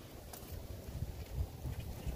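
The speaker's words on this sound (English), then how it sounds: "today it decides to be super windy out of nowhere" Strong gusty wind outdoors at a supercar rally gathering spot, heard as a steady low rumble of buffeting against the microphone with no talking, close and fairly loud for a short stretch.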